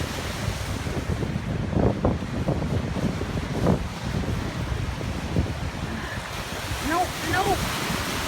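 Wind-driven waves churning between offshore rocks and the shoreline during a wind storm, with a steady broadband roar, gusting wind buffeting the microphone and a few brief, faint tonal sounds late in the clip.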